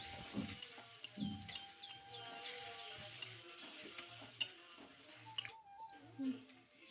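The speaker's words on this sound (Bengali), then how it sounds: "ভালোভাবে মিশিয়ে নিচ্ছি।" Turmeric and chili powder are stirred into a pan for mutton and potato curry, with a soft sizzle, repeated light scraping strokes and some faint background sounds, ending in a quieter stretch.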